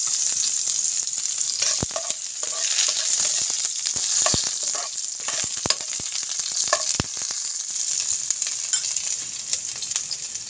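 Onions fry in oil for a sardine dish, a continuous bright sizzle with scattered sharp pops and clicks of a utensil against the pan, close by and without voices.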